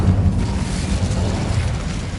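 The Incendio fire spell cast in Hogwarts Legacy: a loud, close whoosh and roar of flame that erupts at once and keeps burning steadily throughout, with no voices over it.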